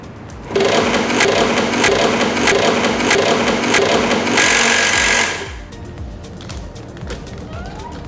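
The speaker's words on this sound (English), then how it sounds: "Homogenize the sample with the diluent or normal saline appropriately using a stomacher machine." Lab stomacher machine homogenizing a food sample in diluent or saline, loud rapid mechanical paddling and thumping that starts abruptly, runs steadily for several seconds, then cuts off into quieter room noise.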